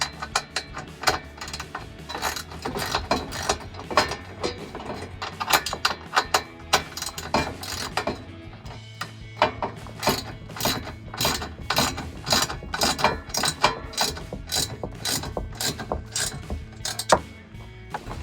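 Ratcheting hand tool tightening a factory bolt on a Jeep Wrangler interior storage rack, rapid repeated ratchet clicks in bursts with brief pauses, close and clear, no speech.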